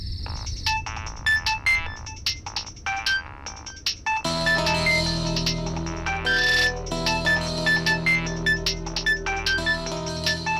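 A phone ringtone plays loudly and steadily, a bright repeating electronic melody that shifts into a fuller tune partway through.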